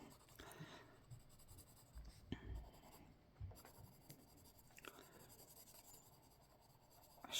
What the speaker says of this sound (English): A shading pencil would work a lot better, but number 2 pencils are fine.